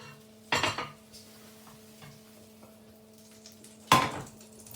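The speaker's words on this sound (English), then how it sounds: "So I'm going to flip this out onto the plate." A frittata flipped out of a pan onto a plate gives two sharp clattering clunks of pan against plate, a few seconds apart, with faint scrapes between and a low steady kitchen hum.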